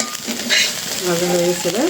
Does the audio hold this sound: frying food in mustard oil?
yes